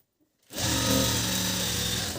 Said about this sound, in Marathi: आता हे मी साईड कवर शिलाई देते